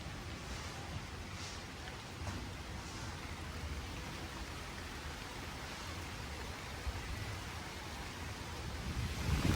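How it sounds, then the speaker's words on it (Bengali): Steady rain falls on a morning with a constant even wash of noise that swells slightly louder toward the end, with no voices. "এই যে সকাল সকাল বৃষ্টি শুরু হয়ে গেছে"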